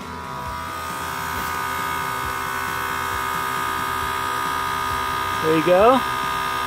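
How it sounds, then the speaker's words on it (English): An AirLift Wireless Air Gen3 on-board air compressor on a 2017 Ford Super Duty runs with a steady, moderate electric hum and buzz, while someone says a few words near the end. "I don't know if you can hear the compressor. That's about as loud as it is."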